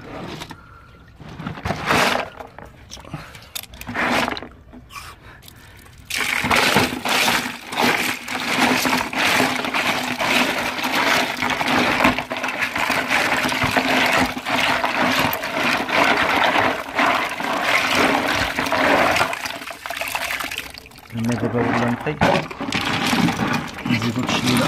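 Water flows steadily while a guppy aquarium is being cleaned, a continuous rushing and splashing that runs for most of the stretch after a quieter, uneven opening.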